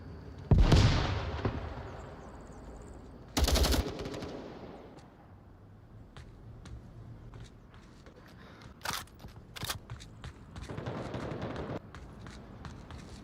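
Bursts of gunfire in a competitive Onward VR match, with a loud close volley, a second heavy burst, then scattered sharp single shots and a later sustained rattle of rifle fire against a quieter background.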